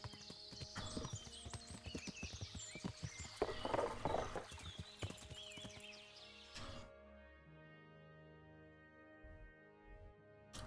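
Horse hooves clip-clop at a brisk trot through woods in Kingdom Come: Deliverance, a fast steady rhythm that stops abruptly partway through, leaving quiet game ambience.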